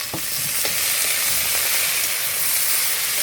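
Leafy greens frying in a little oil in a village kitchen, giving a loud, steady hiss and sizzle close up, broken by a few light stirring clicks.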